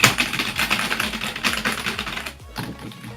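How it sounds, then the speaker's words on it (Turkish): Fast, uneven clacking of keys on a Logitech K360 computer keyboard, close and fairly loud, with a dull, solid tone to each keystroke, slowing to a few isolated taps at the end. "bunda çok daha tok bir ses geliyor klavye tuşlarından"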